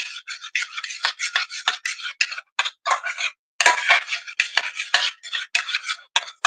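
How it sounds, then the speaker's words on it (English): Ingredients for a ketchup and noodle side dish being stirred, a dense run of close, sharp scraping and clinking strokes against a dish, quick and irregular with brief pauses, no voices. "Okay, so we're going to stir these in."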